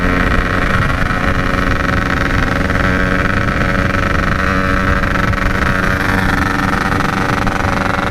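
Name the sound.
Yamaha RX King motorcycles speeding at night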